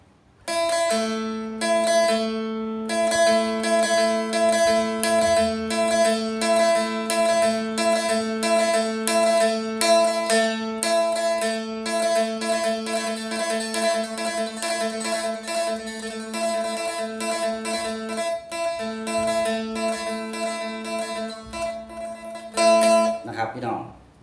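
Plucked strings ring out in a steady repeating pattern, the second string picked with downstrokes, bright sustained notes one after another, loud and close with no talking.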